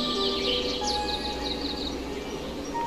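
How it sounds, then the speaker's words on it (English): Birds chirp in the retro video game Gobliiins: thin, high tweets repeat lightly over a steady electronic background hum, with no talking. "Am I supposed to do anything with the birds?"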